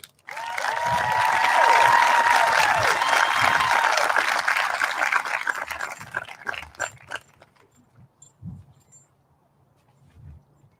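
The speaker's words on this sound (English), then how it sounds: "A nice round of applause, please, for Lauren Kate Harrington." Audience applause at a 2020 high school graduation ceremony rises into a sustained round of clapping with scattered cheers, lasting several seconds before thinning into a few fading claps.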